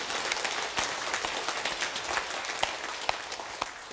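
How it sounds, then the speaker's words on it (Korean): A church congregation claps together during a Sunday service, many hands producing a continuous wash of applause with a few sharper individual claps standing out, fairly distant and even in level. "우리 하나님께 감사와 영광의 박수를 한번 하겠습니다."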